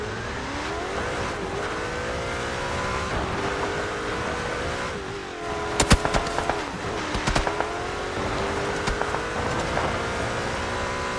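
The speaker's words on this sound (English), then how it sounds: "No way am I driving this motorcycle right now and not instantly dying" Motorcycle engine in the video game PUBG, a continuous droning whine that rises and falls in pitch as the bike accelerates and shifts, with a few sharp clicks and crunches midway, loud and alone without talk.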